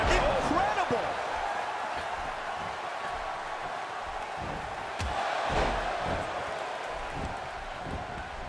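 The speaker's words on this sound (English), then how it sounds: "by the sound of this crowd, I think they're getting what they wanted" A steady, roaring arena crowd cheers throughout a WWE 2K16 wrestling match, loud and continuous with swells and a few sharp impacts.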